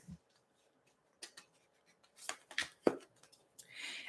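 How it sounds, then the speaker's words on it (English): A Tea Leaf card deck is shuffled lightly by hand: a few soft, scattered card taps and clicks, then a brief papery riffle near the end, quiet and close with no talking. "I'm going to do a light shuffle here."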